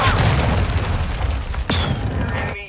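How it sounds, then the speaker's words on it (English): A cruise missile blast in Call of Duty Modern Warfare II: a loud, close, rumbling explosion that fills the clip, with a second sharp crack partway through before it fades. "Hostile cruise missile incoming."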